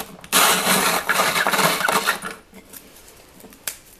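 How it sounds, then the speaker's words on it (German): Stale bread is ground into breadcrumbs in a hand-cranked almond mill over a deep plate, producing a close, dry, rasping grind for about two seconds that fades into quieter scraping and a final faint knock. "Und jetzt wird einfach gerieben."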